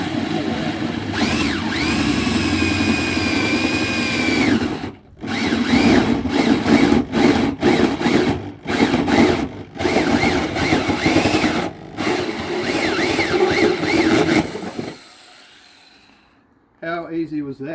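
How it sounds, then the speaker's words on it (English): A power drill fitted with a bi-metal hole saw runs loud and close in long bursts, whining and grinding through metal during a snorkel install on a GWM Cannon, with brief pauses before winding down to quiet. "This is a bi-metal hole saw designed to drill through metal."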